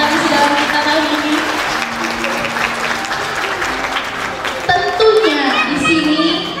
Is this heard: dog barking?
no